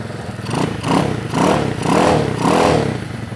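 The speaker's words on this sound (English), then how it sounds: "I can now turn the choke off and it should start" A drift kart's small engine runs after starting, a loud, steady mid-pitched drone with rhythmic swells like repeated revs, close by and without voices.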